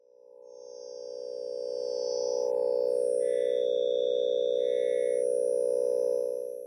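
A Vital synth pad built with a harmonics stack sustains a steady, loud low bass tone, with thin shimmering high partials sparkling on and off above it, swelling in at the start and holding to the end.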